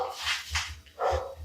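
A dog barks and whimpers nearby in a few short, close vocal bursts, fairly loud, with no talk over them.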